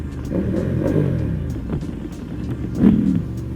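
A Yamaha R1M sport motorcycle's engine roars at steady close-range revs, then swells into a louder blip near the end, with no talking over it.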